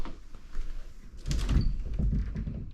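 A closet door in a bedroom of a 1943 house slides open midway, a rumbling roll and brief scrape near the microphone after a quiet room tone.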